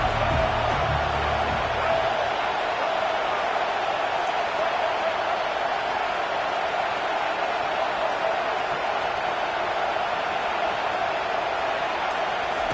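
Dense stadium crowd roars steadily at a football game, a continuous loud wash of cheering voices that fills the whole stretch without letup.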